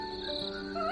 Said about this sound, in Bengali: সেই জঙ্গলে ঝিঝি পোকা ডাকছে।